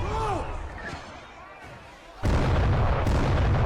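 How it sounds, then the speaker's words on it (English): Ship cannons fire in a pirate sea battle from the TV series Black Sails, a sudden loud boom that leaves rumbling blast noise afterward, heard over quieter dialogue earlier. "Ben, why are your men firing on their own ship?"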